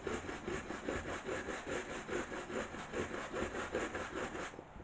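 Cloth rubbed briskly back and forth over a restored surface to raise a shine, like polishing shoes; a steady, rhythmic swishing runs throughout at moderate level with no voices.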